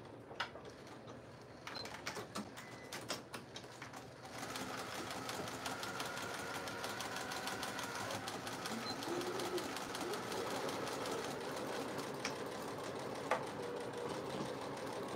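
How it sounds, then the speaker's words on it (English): Juki 2010Q sewing machine top stitching through layers of vinyl, a steady fast mechanical whir and rattle that runs continuously after a few short starts, fairly faint with room noise around it. "It says I have the Juki 2010Q, and it will go through about 6 layers WPC vinyl mix"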